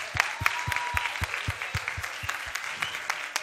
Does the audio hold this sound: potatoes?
no